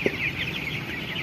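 Chickens being raised on a farm, with a soft cluck near the start followed by steady chirping and clucking from the flock in the background.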